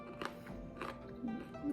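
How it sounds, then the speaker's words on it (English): Crisp bites and crunching of baked ragi (finger millet) nippatu crackers spiced with green chili, onion and cilantro, a few close, sharp crunches in quick succession, fairly quiet. "Can you hear the crunch?"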